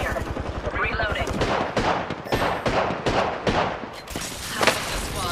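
Rapid automatic gunfire in the video game Apex Legends: loud, close bursts of shots in quick rhythmic strings with sharp cracks between, a voice talking at points over the firing.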